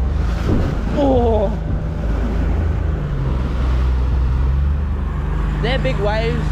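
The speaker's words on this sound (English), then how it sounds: "They're big waves." Big ocean waves wash around a small fishing boat in a bay, a steady low roar of surf and wind noise throughout, with people talking and calling out over it at the start and end.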